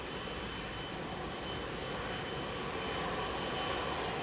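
A Singapore Airlines Airbus A380 at London Heathrow produces a steady, loud broadband engine roar, continuous and unbroken for the whole stretch with no voices.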